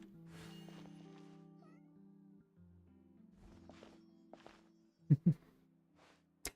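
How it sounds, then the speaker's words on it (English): A cat meows in the video game Genshin Impact, with a drawn-out mewing call followed later by two sharp, loud meows near the end over soft game ambience and music. "Is that a cat?"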